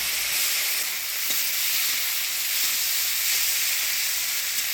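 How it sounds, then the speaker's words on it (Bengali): Dried mola fish frying in hot oil, giving a loud, continuous bright sizzle with a steady hiss close by and no voices. "তেল গরম হয়ে গেছে, এবার শুটকি মাছগুলো দিয়ে দিচ্ছি।"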